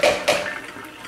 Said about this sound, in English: just going to dump out this water